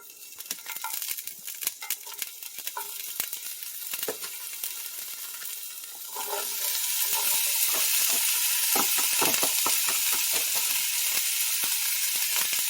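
Pre-packaged chicken fideo ingredients hit a hot skillet, starting with scattered clatters and crackles, then swelling into a loud, steady sizzle that fills the rest of the stretch without any talk.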